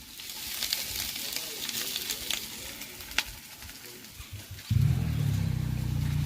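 An omelette sizzles and fries in a pan during a roadtrip breakfast cooked on the go, faint at first, then a loud steady sizzle takes over for the last couple of seconds, with no talking.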